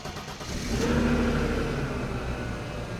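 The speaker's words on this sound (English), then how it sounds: "Then I will go inside and I'll start the engine." An old car engine starts in cold weather, catching and revving to a loud, rough mid-pitched roar before settling into a steady run, close by with no talking.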